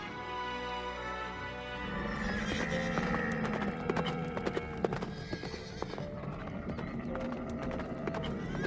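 Horses of an approaching army clop and trot in a dense crowd of hooves, with repeated neighs and whinnies rising over a low rumbling, dramatic background.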